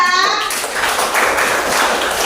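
Classroom applause for group number 2, a burst of clapping from pupils that continues steadily with children's voices mixed in.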